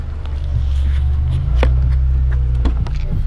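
A loud, deep car exhaust rumble drones steadily, with a few faint clicks and knocks over the low roar.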